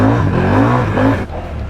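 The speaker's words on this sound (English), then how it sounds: "they had no problem grabbing the mud in there in two-wheel drive" A truck on prototype mud tires revs hard through mud in two-wheel drive, its engine droning loudly and close with a rising, wavering pitch before easing off.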